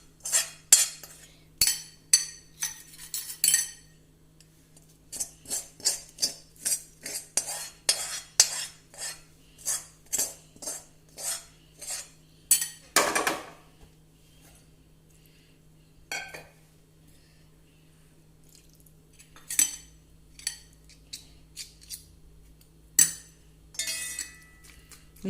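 Banana cake batter mixed in a bowl, with repeated clinking taps of a utensil against the bowl in steady bursts, close and fairly loud, pausing between rounds over a low hum.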